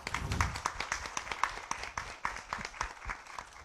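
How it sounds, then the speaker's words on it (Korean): Audience at a Korean intellectual-property talk concert applauds in a quick burst of close, crisp claps, fairly soft and steady for a few seconds. "박수 한번 부탁드릴게요"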